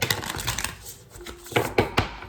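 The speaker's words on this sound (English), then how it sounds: "So let me do 4 shuffles." A few quick papery riffles and soft snaps of tarot cards being shuffled, close by, in short bursts with brief pauses between.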